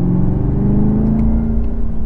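Supercharged V8 of a 2019 Chevrolet Camaro ZL1 running with supercharger whine and exhaust rumble, a loud, close, steady drone with a faint rising tone, no talk.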